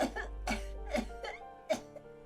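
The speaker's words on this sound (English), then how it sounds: "She starts coughing, red spots appearing on her cheeks." A woman coughs several times in short, hoarse bursts in the video game Disco Elysium, spaced unevenly over a steady low hum.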